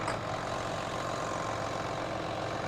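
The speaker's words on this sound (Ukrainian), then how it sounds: "Це в нас старичок, трактор, так що не звертайте увагу, що він гавкає." An old tractor engine idles in a steady, rough, low drone that holds at an even level throughout, during a demonstration rapeseed harvest.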